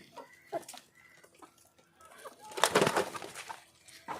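Chickens cluck nearby in short, scattered calls, with a louder burst of flapping or scuffling midway.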